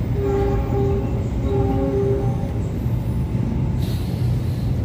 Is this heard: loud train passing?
yes